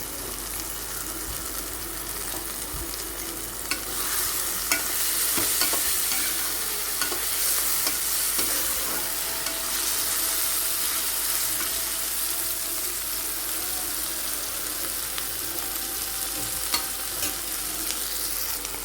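Capsicum stir-fried in a pan for a bread sandwich gives a steady, close sizzle with faint stirring scrapes running throughout.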